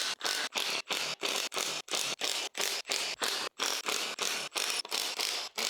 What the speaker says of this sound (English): Next, I have to remove the 13mm bolts.